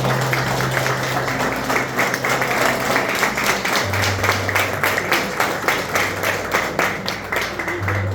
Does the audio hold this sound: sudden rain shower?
no